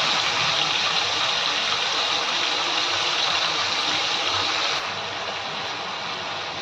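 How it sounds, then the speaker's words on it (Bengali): Yogurt-coated chicken pieces frying in a pan over high heat, a loud, steady broadband sizzle that carries on without a break and drops slightly in level near the end. "এবারে এটা আমি হাই আঁচে ভেজে নেব।"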